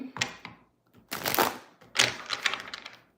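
A tarot card deck being shuffled and cut in three separate rustling, riffling bursts, close and fairly loud, with short pauses between them and no talking.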